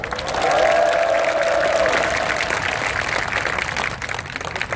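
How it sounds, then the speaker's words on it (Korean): Applause and some cheering from a crowd at a labor union rally for subcontract workers, a continuous loud wash of clapping that swells early and holds steady, with a brief voice-like tone rising over it. "다시 한번 함께해 주신 모든 동지들께 힘찬 박수 함성 부탁드리겠습니다."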